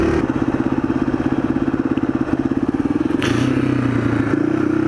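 Motocross motorcycles race at a motocross park, one engine close and loud with a steady rapid pulsing note, a second bike shifting pitch near the end.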